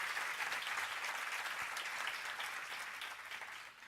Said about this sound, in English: So just a very quick round of applause for all of our panelists again,